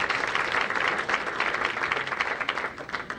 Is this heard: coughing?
no